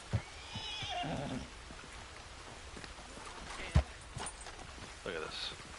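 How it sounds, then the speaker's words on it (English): A horse in the Western video game Red Dead Online whinnies and clops its hooves with rain falling, and a faint voice sits underneath. "Get back on the horse."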